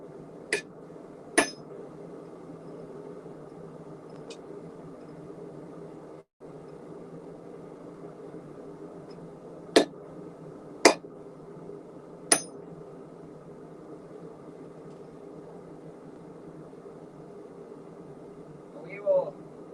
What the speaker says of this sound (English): We're just forging a hammer